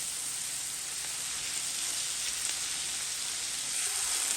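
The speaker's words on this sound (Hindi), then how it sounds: "ये देखें हमारा मसाला भुन गया है, पेस्ट बन गई है अच्छी तरह।" Masala spice paste fries in a pan for chana chaat, a loud, even hiss of sizzling oil close by, holding steady throughout with no voices.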